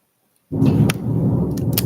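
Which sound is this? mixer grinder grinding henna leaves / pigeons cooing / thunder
thunder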